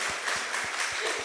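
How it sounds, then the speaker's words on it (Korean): A church congregation applauds during a Sunday service, a steady wash of many hands clapping at moderate volume that lasts the whole moment. "박수로 환영하겠습니다"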